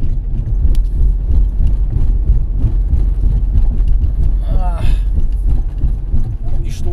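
A car rolls over a cobblestone road in eastern Germany, a continuous low rumble of tyres and engine steady throughout, close and fairly loud, with a person talking over it.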